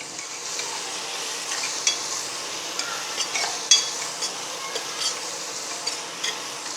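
Ginger-garlic paste fries in hot oil for plain kuska biryani under a soft, even sizzle, while a spoon stirs it with scattered light scrapes and clicks.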